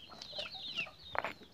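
Farm chickens clucking near a person at feeding time in the morning, a run of quick chirpy clucks and squawks with a sharper cackle toward the end.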